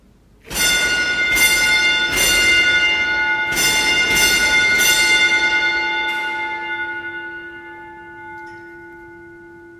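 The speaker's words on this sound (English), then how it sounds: "I pulled the bell once used to communicate with the hoist operator from hundreds of thousands of feet underground" A mine hoist signal bell, once used to signal the hoist operator from deep underground, rings loudly and up close in five clear metallic strikes, two quick pairs and one single, then rings on and slowly dies away.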